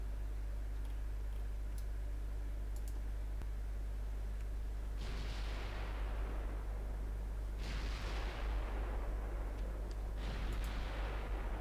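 Naval guns from Timu class warships firing in the game Ultimate Admiral Dreadnoughts: three heavy booming salvos, spaced a few seconds apart, roll out over a constant low engine drone.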